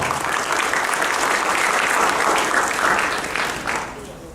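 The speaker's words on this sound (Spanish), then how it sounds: "Por favor, recibámoslo con un fuerte aplauso." An indoor audience at a financial accounting course gives sustained applause to welcome a speaker, a dense clatter of clapping that holds steady before tapering off at the end.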